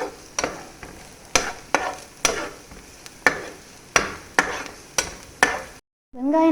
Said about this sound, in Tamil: வெங்காயம் கருகிடக்கூடாது, அதனால அடிக்கடி வதக்கி விட்டுக்கோங்க.